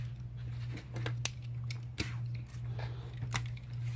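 Scissors cutting a strip of adhesive from corner to corner during a Samsung Galaxy Note 4 LCD screen repair: a few sharp, close snips scattered over a steady low electrical hum, with no talking.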